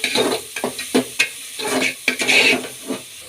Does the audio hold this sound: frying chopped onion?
yes